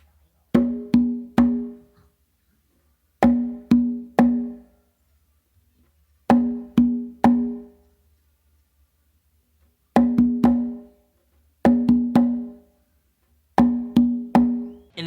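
Makuta rhythm on congas, struck in tight groups of three: open tones on the tumba with close slaps, repeating in clean, evenly spaced bursts, close and dry with nothing else heard.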